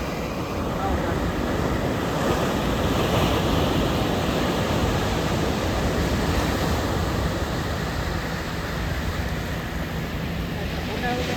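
Continuous roar of sea waves washing in, loud and broadband with wind noise buffeting the microphone throughout.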